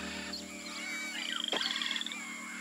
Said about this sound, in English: A poison dart frog!